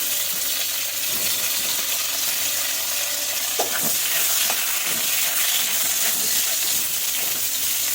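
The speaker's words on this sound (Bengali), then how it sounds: "একটু তেল দিয়ে দিয়েছি দিয়ে কিন্তু বেগুনগুলোকেও অল্প নাড়াচাড়া করে নেবো" Eggplant pieces fry in oil in a pan while being stirred, giving a continuous sizzling hiss with a few sharp scraping clinks from the utensil against the pan.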